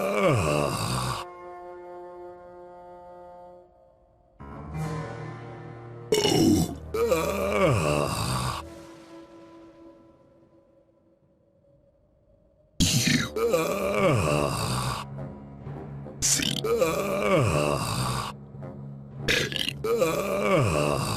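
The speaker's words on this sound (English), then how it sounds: "I can burp the alphabet." Cartoonish character in The Whispered World video game burping the alphabet, long drawn-out belches in separate loud bursts with gaps and background music between them, close and prominent.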